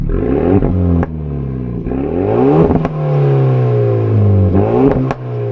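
Renault Megane RS Trophy exhaust rumbling loudly up close as the engine is revved repeatedly, each rise in pitch followed by a crackling drop, with no talk.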